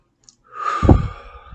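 A single deep breath taken during a seated meditation, a soft inhale swelling into a fuller, breathy exhale, close and alone without talk.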